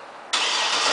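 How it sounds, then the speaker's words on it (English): A 2008 GMC Yukon AWD engine started by remote start: after a quiet moment it catches abruptly and settles into a loud, steady close-up roar, with no one talking. "we hold and press that little circle till the car starts."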